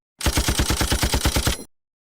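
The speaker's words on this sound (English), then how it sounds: "He was brutally murdered via firing squad." Rapid burst of about a dozen close, loud gunshots from a firing squad in a Civilization game, evenly spaced and continuous for about one and a half seconds before cutting off abruptly.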